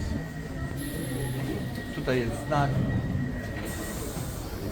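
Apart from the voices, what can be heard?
London Underground metro train riding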